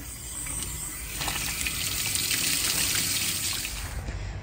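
Water pours steadily into a container to soak bare root David Austin roses, a continuous splashing trickle that builds slightly in the middle and stops abruptly at the end, close and alone.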